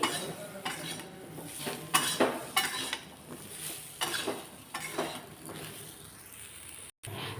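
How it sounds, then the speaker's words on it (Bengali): A metal spoon stirs drumstick curry in a pan, giving repeated scraping clinks and rattling strokes at close range in an irregular rhythm, with a faint sizzle underneath. "একটু নাড়াচাড়া করব"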